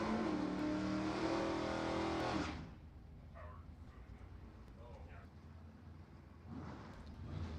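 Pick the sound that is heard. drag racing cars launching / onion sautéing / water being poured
drag racing cars launching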